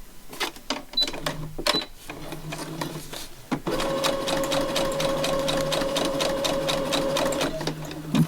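A sewing machine stitches a mini notebook folio with a few short, halting bursts, then settles into a steady, fast mechanical whir up close, ending with a brief stop-start.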